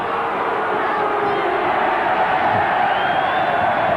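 A large stadium crowd cheers and roars continuously at a 1990 rugby league match between Illawarra Steelers and St George Dragons, a dense, loud wash of voices with no clear individual speech.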